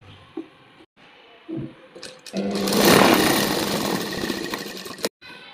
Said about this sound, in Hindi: स्लीव्स के सेंटर और टॉप पार्ट के सेंटर को आपस में मिलाएंगे यहाँ पर और सिलाई लगा लेंगे।